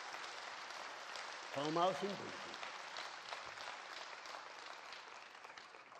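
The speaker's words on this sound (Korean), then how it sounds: "박수 한번 해보라고요." An audience claps steadily, a faint, wide wash of applause that continues under someone speaking briefly at a formal gathering.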